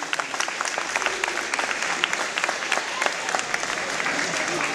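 Audience applauding teachers at a school performance event, a steady burst of many hands clapping throughout, fairly loud and close, with some voices mixed in.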